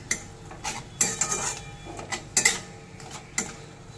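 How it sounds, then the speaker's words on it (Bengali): Spice paste with ginger, garlic and salt is stirred in a pan, producing close, uneven clatter and scraping of a spoon against metal, with soft sizzling between the strokes and no voices. "এবার নেড়ে মশলাটা একটু কষে নেব।"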